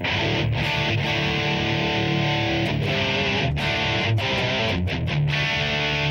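Heavily distorted electric guitar played through a Line 6 POD 2.0 with the drive fully up, bass, treble and a little reverb, loud sustained chords broken by several short choppy gaps and restrikes, with no voices.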